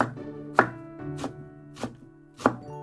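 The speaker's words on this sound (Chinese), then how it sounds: "这个切菜的声音，这个菜手起刀落那种感觉" Four sharp knife chops strike a cutting board at a slow, uneven pace as squeezed greens are cut, close up, with a faint tonal hum underneath.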